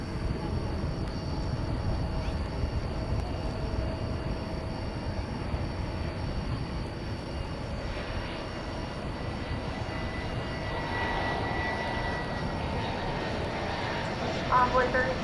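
Delta passenger jet arriving from Detroit at DFW Airport at night, a steady broad engine roar that holds at moderate level throughout, with a faint higher whine building toward the end.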